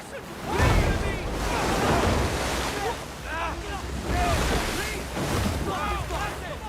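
Churning river rapids in a jungle film rush continuously, a dense, loud roar of turbulent water that surges and eases in waves across the whole stretch.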